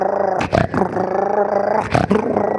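A voice imitates a dog growling and barking, a continuous throaty snarl broken by two sharp bark-like bursts, loud and close with no other sound.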